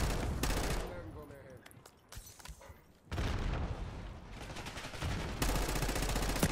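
Bursts of rapid automatic gunfire and booms from the video game Call of Duty Black Ops 6, loud and dense, with a brief lull midway before heavy firing resumes; a voice may be faintly present.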